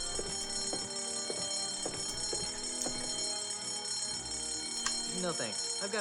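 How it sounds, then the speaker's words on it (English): A fire alarm rings in the game Escape from Monkey Island, a steady repeating bell-like tone running under game music and sound effects across the whole span. "The fire alarm is not a toy, Mr. Threepwood."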